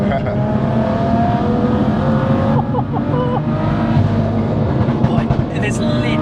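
A 650 bhp big single turbo BMW M2 runs close under hard load, a dense engine roar with a rising turbo whistle and flutter, brief high chirps near the end.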